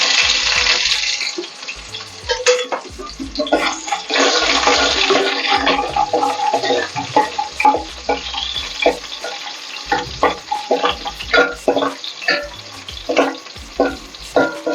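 Onions sauté in oil in a pot after mustard seeds and fenugreek go in, for a homemade Tamil fish curry. Loud sizzling bursts come with stirring and scraping, and the frying rises and falls unevenly.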